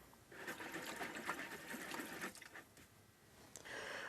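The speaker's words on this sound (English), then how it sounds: "We're going to go wash some brushes out." A paint brush swished and scrubbed in a bucket of odorless thinner, producing a steady close wet sloshing and rattling that pauses briefly, then resumes.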